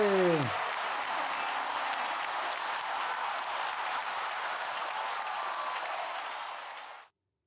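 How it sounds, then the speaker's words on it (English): Audience applause during a live stream, a broad, even hiss of clapping that holds steady for about seven seconds and then cuts off abruptly, after a brief voice at the very start. "Let's get some applause."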